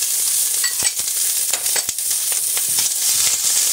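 Minced garlic and chopped onion sauté in olive oil in a hot pan, giving a loud, steady close sizzle broken by several brief knocks and scrapes of stirring.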